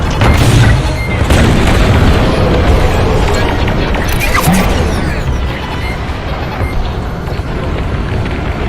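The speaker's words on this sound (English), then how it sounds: "Proton bombs, excellent weapons against hardened targets. Bombs fired straight down from your starfighter." Proton bombs explode in the Star Wars: Squadrons starfighter flight combat game, dropped straight down onto hardened targets: a loud, dense rumbling barrage of booms and crashes that continues without pause throughout.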